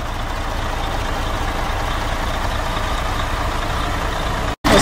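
A European-spec Mercedes truck's diesel engine runs steadily, a loud, continuous rumbling drone close by that holds even throughout and cuts out briefly near the end.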